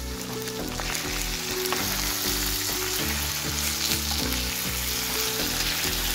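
Chicken bhuna masala cooking in oil in a pan, a loud, dense sizzle and crackle running continuously, with a repeating musical pattern underneath and no speech.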